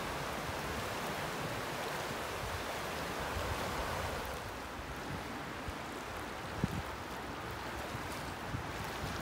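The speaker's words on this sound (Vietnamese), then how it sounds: "Dưới cầu nước chảy" The small Credit River in Mississauga, Ontario flows under a bridge, a steady broadband wash of moving water with some wind rumble, no voices.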